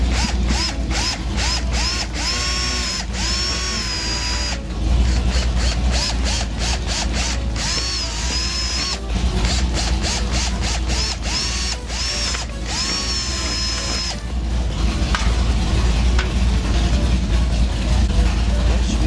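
A power drill bores custom holes for mud flap brackets on a Subaru WRX, its motor whining in repeated bursts that rise and fall in pitch, close and loud over a steady low background hum.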